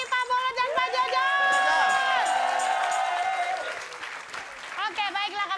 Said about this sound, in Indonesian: Baiklah, tepuk tangan juga untuk Bang Mali, Pak Bolo, dan Pak Jojo.